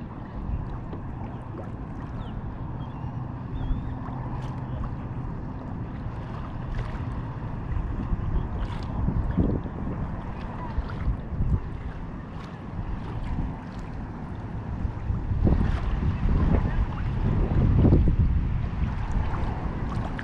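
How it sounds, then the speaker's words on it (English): Boats moving on open water near a canal, with a steady low engine rumble, water wash and wind noise on the microphone throughout, swelling louder toward the end. "there's a lot of boat in the water today"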